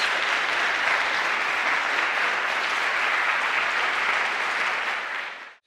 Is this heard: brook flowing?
no